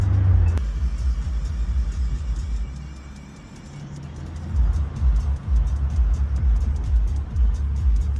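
A BMW M340i fitted with an aftermarket Alibaba exhaust cruises calmly, its deep engine and exhaust rumble loud and steady throughout, swelling briefly as the car picks up speed; no one speaks.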